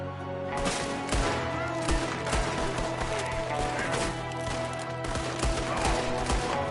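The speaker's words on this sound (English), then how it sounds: "There's another one shooting from the window." An enemy fires from a window in a Red Dead Redemption 2 shootout, unleashing a loud, crackling fusillade of rapid gunshots that pile up in quick irregular bursts, close and relentless throughout.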